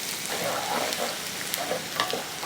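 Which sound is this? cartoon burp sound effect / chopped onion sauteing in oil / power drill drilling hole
chopped onion sauteing in oil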